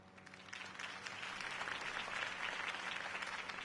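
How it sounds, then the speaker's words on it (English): Crowd applause follows a mayoral campaign speech in the Spider-Man 2 video game, a dense steady wash of clapping throughout, moderately loud and alone. "If only Mr. Wayne, my campaign's largest backer, could have heard that applause"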